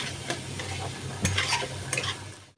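Potatoes and onions with salt and turmeric fry in a pan, giving a steady close sizzle broken by a few sharp stirring scrapes, with no voices.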